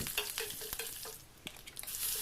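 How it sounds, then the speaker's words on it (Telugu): Cumin, mustard seeds, dried red chillies and curry leaves fry in hot oil in a kadai, giving a steady close crackling sizzle with a few sharp pops and light stirring clinks. "ఇప్పుడు స్టవ్ మీద బాండి పెట్టి ఆయిల్ వేసుకొని కొద్దిగా జీలకర్ర ఆవాలు ఎండుమిర్చి వేసుకొని కొద్దిగా కరివేపాకు కూడా వేసి ఫ్రై చేయాలి"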